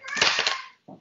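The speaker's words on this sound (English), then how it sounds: "That's a cat? That sounds like a young child." A cat yowls loudly in a drawn-out, wailing meow that sounds strikingly like a young child crying, followed by a brief, softer low call after a short pause.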